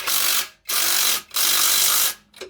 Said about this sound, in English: Get the box end of our combination wrench, 19 mil, and just snug it down.